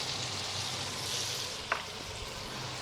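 Steak sizzles and fries in butter in a hot pan, a steady close hiss and crackle with one brief sharp pop partway through and no voice.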